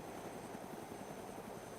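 A helicopter flying in a video game, its steady rotor and engine drone holding at an even, fairly faint level throughout with no talk over it.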